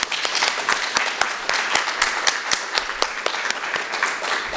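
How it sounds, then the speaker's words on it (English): A small audience claps for speakers at a university ability awareness event, with distinct individual hand claps standing out over a steady, fairly close round of applause. "So if we can give them a round of applause."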